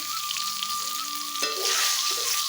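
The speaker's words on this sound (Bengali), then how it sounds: "ফোড়নটা একটু ভাজা করে নেব।" Whole spices (bay leaves, cardamom, cloves, cinnamon) sizzle steadily in hot oil, a bright hissing crackle that swells louder partway through.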